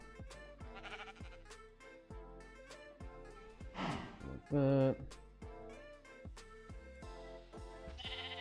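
A sheep in Minecraft, modded Enigmatica 6 pack, lets out one loud, short bleat over rhythmic background game music, with a player talking briefly nearby.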